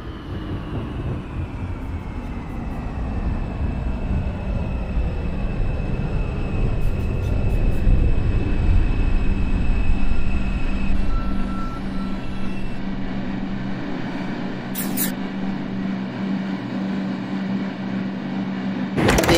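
A Bronx-bound R142 6 local subway train in the OpenBVE simulator pulls into 110th Street and departs, with a rising and falling motor whine, rumbling wheels, a door chime and brief beeps, continuous and fairly loud.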